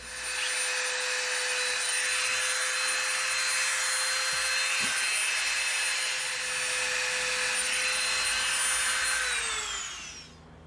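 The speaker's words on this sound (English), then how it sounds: "now we're going to use our Dremel bit. We're going to make a couple rivets." A Dremel rotary tool drills rivet holes in EVA foam with a loud, steady high-pitched motor whine that holds for about nine seconds, then winds down and fades at the end.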